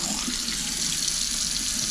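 Water gushes steadily from a faucet into a clogged kitchen sink as it fills, a loud, close, unbroken hiss and splash with no pauses.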